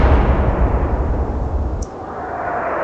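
A naval gun fires in the turn-based Atlantic Fleet strategy game, heard as one loud, booming low-frequency blast that rumbles and then drops off abruptly into quieter background.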